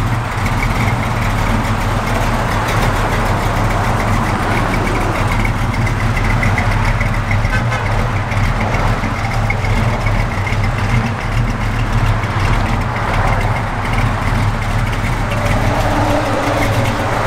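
A 1971 Chevrolet Cheyenne pickup truck engine idles steadily with a deep, constant low rumble, close by and unchanging throughout, no voices.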